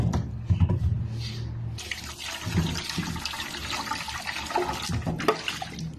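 Tomatoes being washed under running water, a steady splashing gush of water that starts with some clatter, then runs continuously and fairly close, with no talk.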